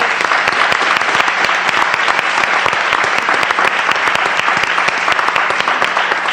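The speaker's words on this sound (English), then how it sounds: "how about another round of applause?" Sustained, dense applause from an audience at a school board meeting, loud and steady throughout with no pauses or voices on top.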